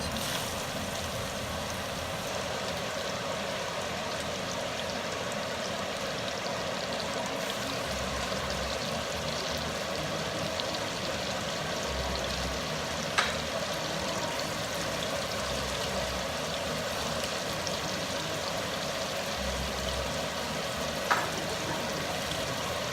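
Onions fry in a pot for keto mushroom and meatball soup, giving a constant, even sizzle with no pauses and a couple of faint clinks.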